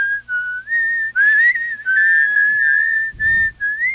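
A single person whistles a wavering melodic tune up close, in short phrases with brief pauses between them, and a soft thump near the end.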